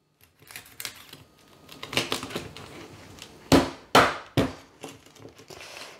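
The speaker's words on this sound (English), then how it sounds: "time to cut the pork belly" A knife crunches through the crackling skin of air-fried pork belly, a run of irregular close crisp cracks and snaps that peak in several louder bursts midway.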